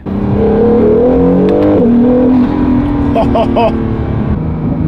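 A hybrid K-NSX car pulls away under acceleration, its engine note rising steadily and loud and close, with a person talking over it.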